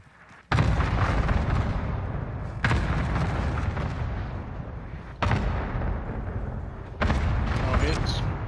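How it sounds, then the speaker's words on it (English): Cluster strike bombardment in Call of Duty Warzone on the Caldera map, four loud booming explosions at uneven intervals, each hitting sharply and then trailing off into a long rumbling decay. "Cluster strike is active."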